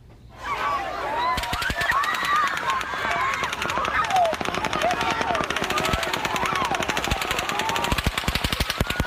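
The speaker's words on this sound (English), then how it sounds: "You hear that gunfire." Rapid bursts of automatic gunfire crackle continuously, sharp repeated shots in a fast rhythm, with faint voices underneath.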